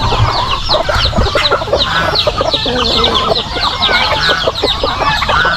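Many chickens cluck and chatter continuously at close range, a busy overlapping flock with no voices over it.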